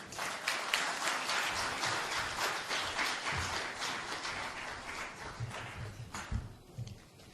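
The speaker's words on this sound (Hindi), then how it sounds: "आप सबने तालियां तो बजा दी" Sustained audience applause at a Jharkhand Industries Department stakeholders' meeting, a dense steady patter of many hands clapping across the room, moderately distant, continuing throughout and thinning slightly near the end.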